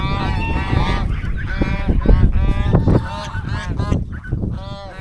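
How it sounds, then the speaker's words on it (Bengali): A flock of domestic geese on a river char island honks repeatedly, with loud, close, overlapping nasal calls coming in uneven bursts over about five seconds and short gaps between them. "রাজহাঁসগুলো দেখে অনেক ভালো লাগলো"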